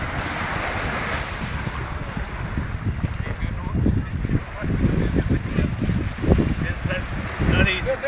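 A boat out on the sea among surging waves and gusting wind, with rhythmic washes of surf and a few honking calls over the top.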